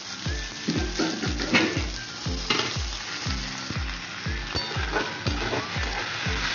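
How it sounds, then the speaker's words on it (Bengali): Potatoes fry in a pan with a continuous sizzle, broken by a regular series of low thuds and scrapes as they are stirred, close and fairly loud, with no voices. "আর এখানে আলুটা আমি ভাজছি।"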